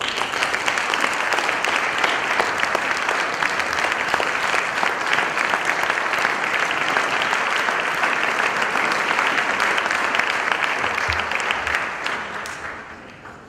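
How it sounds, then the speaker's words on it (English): A plenary conference audience gives a big round of applause for the Indian government, dense and loud clapping sustained for over ten seconds before tapering off near the end. "just give a big clap to the Indian government for the huge engagement they're doing to push this"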